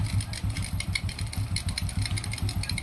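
A Honda RS 125 carbureted motorcycle engine idles very low, a close, loud, steady chugging with a slightly uneven pulse and no speech over it.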